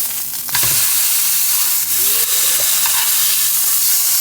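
Steak sizzling loudly in a hot pan just after being flipped, a dense continuous hiss and crackle close up, with brief scraping or stirring touches and no talk.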